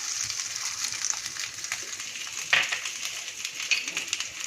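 Okra and onion sautéing in hot oil over a medium gas flame give a steady, close sizzle and crackle, with a few louder spits partway through and no talking.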